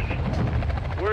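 A helicopter in Call of Duty: Modern Warfare 2 gives off a loud, close rotor thrum with pulsing chop throughout one brief moment, while a voice speaks over it.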